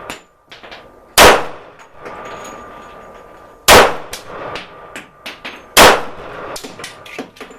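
Three loud, sharp gunshots from a 10mm Rock Island 1911 pistol fired at steel targets 12.5 to 20 yards away. Each report is followed by a ringing metallic clang, with lighter clicks and knocks in between.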